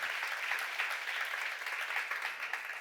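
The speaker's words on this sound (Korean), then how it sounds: "믿는 사람만 박수로 영광을 드리세요." Sustained applause from a church congregation during a sermon, a dense steady wash of many hands clapping at even loudness with no talk over it.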